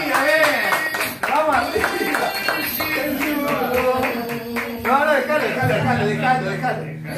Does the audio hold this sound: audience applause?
yes